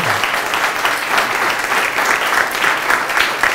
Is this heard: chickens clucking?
no